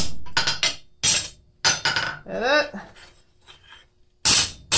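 A hammer strikes hot steel while forging a blacksmith gauge, giving sharp, loud, ringing blows in quick clusters separated by pauses, with a brief spoken word in between.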